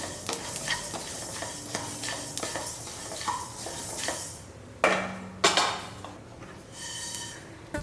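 Fenugreek seeds frying in a pan with a steady sizzle, a spoon stirring and scraping against metal, and a few louder clanks, close up with no talking.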